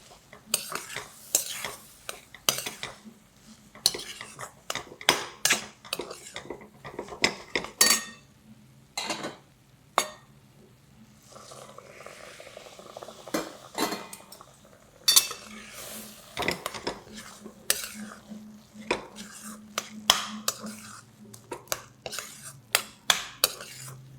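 Moong dal halwa mixture is stirred in a metal pan, with repeated sharp scraping and clanking strokes of a spoon against the pan in an uneven rhythm over a faint sizzle.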